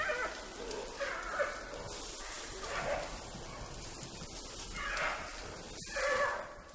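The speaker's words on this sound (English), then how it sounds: "From the growls, it's obvious the males will have no energy left for fighting, as Lulu does with the females in Wulong." Giant pandas growling in the wild, a series of low rough growls and moans rising and fading over several seconds, fairly close.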